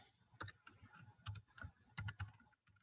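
Typing on a computer keyboard, a quick run of clacking keystrokes in short bursts with brief pauses, close and fairly quiet, no talking.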